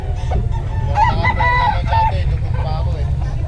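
A rooster crows once, clear and fairly close, over a steady low rumbling background.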